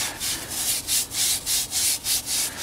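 Abrasive sanding strokes on the matted Alcantara rim of a Porsche 997.2 GT3 steering wheel, about nine even back-and-forth passes in a steady rhythm, close and clear with no talking.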